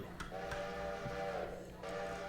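A train whistle toots in the Railroader video game, a sustained tonal blast with a brief break, heard fairly faint over background rumble.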